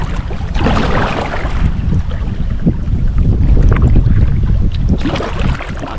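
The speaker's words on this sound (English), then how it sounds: "That wind blowing though." Steady wind roars across a Michigan river during a kayak camping trip, a loud continuous rush buffeting the microphone with gusts rising and falling throughout.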